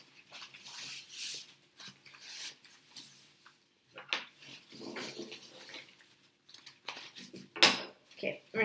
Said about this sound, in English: Take our bottom edge and fold that up to our top pencil mark.